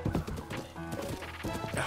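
Horse hooves clip-clopping in Breath of the Wild during mounted combat, a quick close run of hoof strikes with a short whinny-like tone and in-game effects layered over it.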